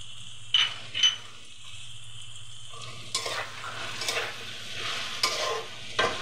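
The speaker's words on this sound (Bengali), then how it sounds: "এগুলো দিয়ে এখন আমি এটাকে ঢেকে আরও কিছুক্ষণ ভাজতে থাকবো" Okra and prawns with chilli, coriander and cumin powder frying in a pan; a low steady sizzle sits under repeated scraping spatula strokes, with a few sharper clatters near the start.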